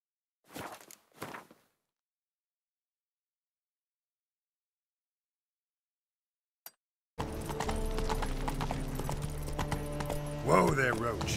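Hoofbeats of Roach, the horse in The Witcher 3 video game, clop along beneath dense game music and ambience after a long silent stretch broken only by a couple of brief thumps.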